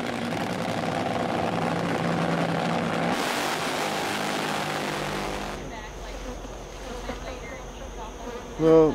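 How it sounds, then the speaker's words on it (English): Honey bees swarming around a hive at night, a dense close buzzing drone that fills the air, then thins out and gives way to quieter scattered hums. "the bees are definitely busy at night too"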